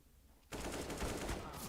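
AK rifle gunfire in a video game, a sudden burst of rapid automatic shots that starts after a quiet moment and continues steadily, fairly faint and distant-sounding.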